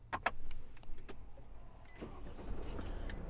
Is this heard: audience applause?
no